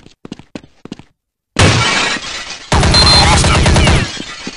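Gunfire in Counter-Strike: Condition Zero: after a few faint clicks and a brief silence, a loud, dense burst of rapid shots rings out, pauses, then a second sustained volley follows up close.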